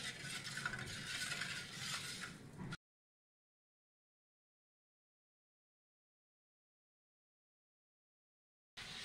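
A spoon stirring mattha, buttermilk with sugar and salt, in a bowl: close swishing and light clinking for about three seconds, then silence until a short burst returns at the very end.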